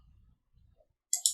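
Two quick, close mouse clicks at the end, sharp and bright after a stretch of faint low rumble.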